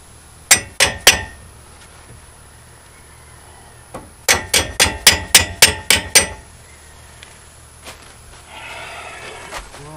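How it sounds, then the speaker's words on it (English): A rubber-headed mallet strikes a nut on a boat trailer during a spring upgrade: three quick knocks, a pause, then a rapid run of about eight sharp, close blows, followed by scattered lighter taps. "rubber-headed mallet"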